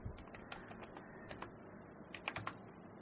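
Typing on a computer keyboard, entering a website name into a browser search: a quick run of crisp, close key clicks in irregular bursts, with a short flurry near the end and no voices.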